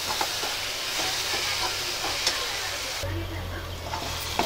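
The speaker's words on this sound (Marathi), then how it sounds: "1-5 मिनटं छान मिडियम गॅसवर भाजून घेणार आहे मी" Green chili chutney with onion, tomato and salt roasts in a pan over a medium gas flame. A steady, close sizzle and hiss runs throughout, with faint scraping from occasional stirring.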